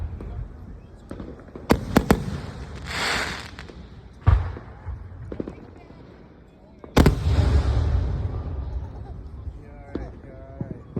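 Consumer fireworks go off in a series of sharp cracks and booms, some louder and closer than others, with crackling and fizzing tails between the bangs and people talking and reacting in the background.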